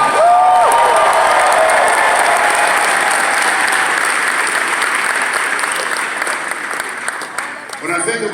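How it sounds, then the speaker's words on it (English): A large audience at a motivational speaking event breaks into loud, sustained applause with some cheering, a dense roar of clapping that slowly eases toward the end; a voice rises briefly at the start. "Give them another round of applause."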